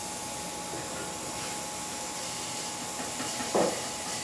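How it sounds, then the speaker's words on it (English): A steady, fairly quiet hiss of steam flows from the steam wand of a freshly serviced Zacconi Baby Lusso lever espresso machine, holding even for several seconds, with a brief louder knock near the end. "going through your steam wand"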